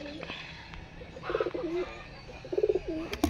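Pigeons being kept and raised, giving soft, low, throaty coos in short rolling bursts, close by over a faint background with light rustling.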